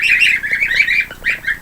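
High, rapid peeping from several small chicks, a steady overlapping chatter of chirps close by with brief dips, no voices.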